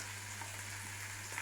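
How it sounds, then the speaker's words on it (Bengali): Onions fry in a pan with a steady, even sizzle and faint crackles, close and continuous throughout, with no voices over it. "পেঁয়াজগুলো হালকা করে ভেজে নেবো"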